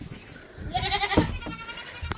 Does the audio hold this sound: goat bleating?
yes